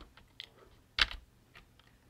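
Quiet computer keyboard typing with a few scattered keystrokes and one sharper clack near the middle, close and soft, with no voice over it.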